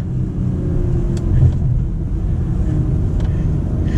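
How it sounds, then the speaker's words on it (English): A 2021 Acura TLX Type S sedan accelerating in sport mode on a bumpy road, with a steady, low engine rumble and droning road noise heard from inside the cabin, swelling slightly partway through. "We'll do a little acceleration here."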